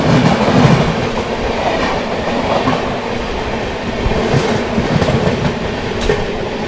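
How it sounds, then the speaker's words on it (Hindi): The Purushottam Express rolls out of Pandit Deendayal Upadhyaya station, its steady rumble and rhythmic clickety-clack of wheels over rail joints filling the space at close range with no voices. "फिलहाल दोस्तों अपनी ट्रेन डिपार्ट कर रही है पंडित दीनदयाल उपाध्याय से।"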